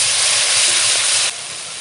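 Turmeric powder and spices sizzle in a hot pan as a splash of water hits them, a sharp burst of steamy hiss that eases slightly but keeps hissing to the end.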